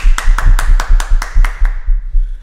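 Hands clap in a quick, even rhythm of about nine sharp claps as a former F1 driver is welcomed onto a show, loud and close, then fading to quiet, with no talking.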